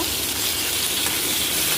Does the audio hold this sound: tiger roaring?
no